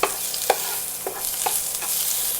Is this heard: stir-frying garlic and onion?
yes